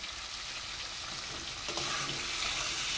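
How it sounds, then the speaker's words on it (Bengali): Mixed vegetables frying and being stirred in a pan, a steady broadband sizzle that swells a little louder partway through, with no voices. "সমস্ত সবজি দিয়ে আমি ভালোভাবে নেড়ে নিচ্ছি, এগুলো ভালোভাবে ভাজা ভাজা করে নিতে হবে।"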